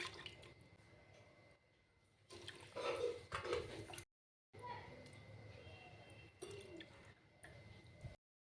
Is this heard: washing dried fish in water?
yes